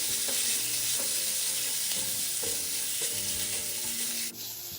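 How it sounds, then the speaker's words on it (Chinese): Shredded pork and minced garlic stir-fry in hot cooking oil over medium heat, a loud continuous sizzle broken by regular scraping strokes of a spatula in the pan, with no talking. "接着将肉丝也加入一起拌炒。"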